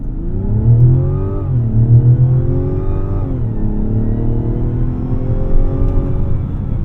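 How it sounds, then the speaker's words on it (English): A turbocharged 2025 Mazda CX-90 Turbo S in sport mode accelerates hard from 0 to 60, its engine climbing steadily in pitch through two gear changes with a drop and rebuild each time, heard from inside the cabin. "We'll go ahead and put it in the sport and do a quick 0 to 60 here."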